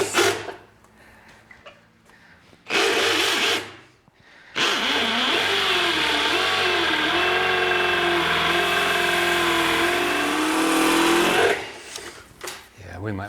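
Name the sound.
drilling into a concrete garage slab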